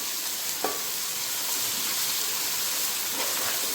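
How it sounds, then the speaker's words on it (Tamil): Biryani masala roasting on a low flame for Ambur biryani, a soft, even hiss of dry frying with a couple of faint utensil taps, steady throughout and free of speech. "தீஞ்ச ஸ்மெல் வரப்போ அப்படியே ஸ்டவ்வை சிம்மில் வச்சு அப்படியே வறுக்க வேண்டியதான்."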